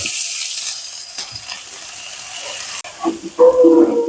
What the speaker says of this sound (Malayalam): എണ്ണ ചൂടായി കടുകിട കേട്ടോ കറിവേപ്പില ഇനി നമ്മൾ നല്ല യോജിപ്പിച്ച് വെച്ചിരിക്കുന്ന നമ്മുടെ ക്യാബേജ് അങ്ങോട്ട് ഇട്ട് കൊടുക്കാം